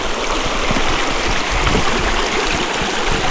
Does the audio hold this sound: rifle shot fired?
no